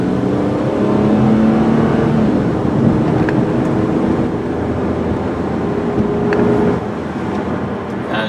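A red 2003 Ford Windstar SE van with a 3.8 liter V6 and 4-speed automatic drives along, a steady low engine hum and road rumble with mild rises in revs, fairly quiet inside the cabin.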